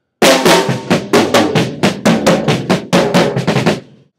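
Drums are struck in a slow, deliberate sequence of about a dozen separate hits, each one ringing out briefly before the next, close and loud.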